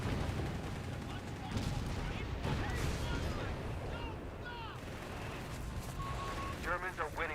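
A Company of Heroes 3 battle, German forces engaged, fills the scene with dense, continuous gunfire and rattling bursts over a rumbling wash of combat noise, steady and loud throughout.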